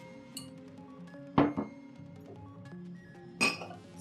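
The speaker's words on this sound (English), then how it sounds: "I just put the lid on" A lid set onto a glass jar Halloween centerpiece gives two crisp glassy clinks about two seconds apart, close and moderately loud over faint room background.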